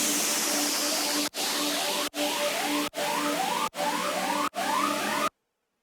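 Hissing electronic dubstep riser effects with rising pitch sweeps, chopped into short rhythmic bursts by abrupt cuts, then stopping dead into silence.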